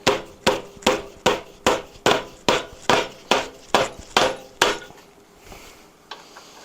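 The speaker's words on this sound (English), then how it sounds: "grab a dead blow at this point. Couple love taps on each side" A dead blow hammer taps a motorcycle front end about eleven times in an even, fairly quick rhythm, each blow close and dull, then the tapping stops and a quiet pause follows.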